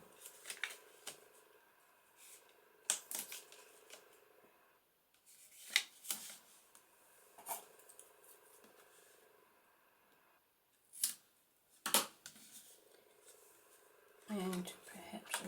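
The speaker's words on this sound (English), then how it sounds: "So I'm going to run another row of tape along the bottom of that." Adhesive tape being pulled and pressed along the edge of an acetate easel card: soft crinkly rips and rubs in short bursts between quiet pauses, close by, with a person talking over parts of it.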